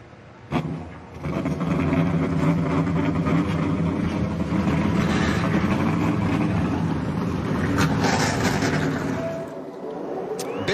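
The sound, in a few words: race truck engines starting at Las Vegas race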